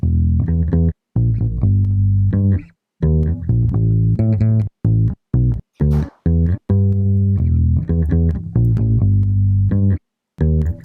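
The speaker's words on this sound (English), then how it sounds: "it's an electric bass that we recorded from Natalie" An electric bass plays a solo line of plucked notes, deep and clear, with short pauses between phrases and no voices.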